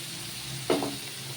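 Water rinsed from mixer jars is tipped into a sizzling brinjal curry with peanuts and sesame, giving one brief splashing hiss rising over a steady low fry before settling back.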